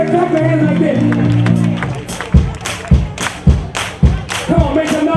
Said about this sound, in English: Everybody clap your hands like this.